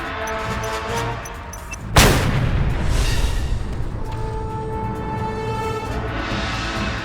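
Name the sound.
explosions in a video game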